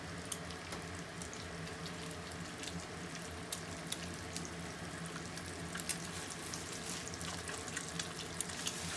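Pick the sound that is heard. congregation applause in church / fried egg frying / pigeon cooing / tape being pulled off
fried egg frying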